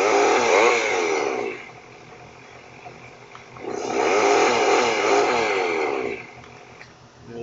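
Chainsaw in a violent video game, revving in two long, loud bursts with a coarse buzzing roar and a quieter idle between them, heard alone with no talk.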